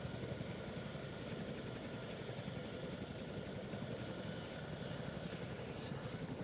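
A helicopter lifts off with the Dream Chaser spacecraft slung underneath in a captive carry flight, its dense, steady rotor and engine roar filling the air continuously at moderate distance with no talk.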